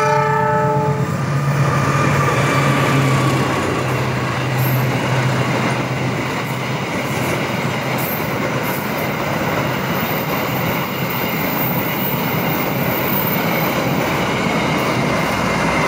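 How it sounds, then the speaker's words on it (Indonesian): A passenger train passes the Gambringan junction in Indonesia at moderate speed. A horn blast at the start gives way to a loud, sustained roar and rumble of wheels on rails that fills the rest of the clip. "Ini keretanya nggak ngebut nih, sedang."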